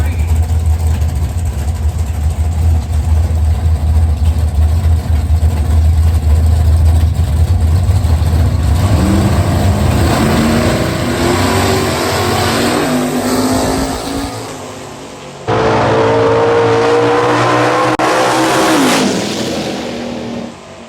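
Drag racing cars at Lapeer International Dragway, one of them the Short Fuse Camaro, roaring loudly at close range with engines revving and climbing in pitch, a sharp cut partway through, then another surge of high revs fading toward the end.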